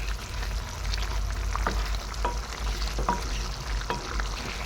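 Chicken curry with chilli, cumin and coriander powders fries in a pan, giving a steady close sizzle broken by a few sharp scraping strokes as it is stirred.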